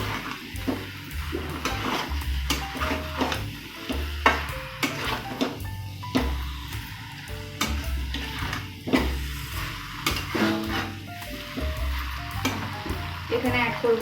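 Green jackfruit and shrimp curry sautéing in a pan, with a steady sizzle broken by repeated scraping and clattering of a spatula against the pan, plus occasional faint voices.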